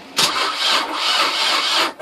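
An old engine left unused for four years cranks and catches, a sudden loud start followed by a rough, roaring run that cuts off near the end, close and alone.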